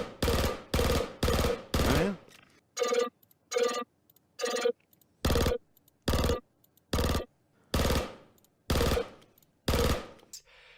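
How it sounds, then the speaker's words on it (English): The Clausen Werner Lumin 5, a Star Citizen energy weapon, firing in loud rhythmic bursts: four heavy shots, then several thinner buzzing pulses, then a steady train of full, booming blasts, each cut off by brief silence. "We also heard him isolate the sounds for the Clausen Werner Lumin 5 weapon"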